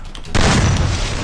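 A sudden loud boom bursts in, then a rumbling roar that trails on, like a grenade blast in a game.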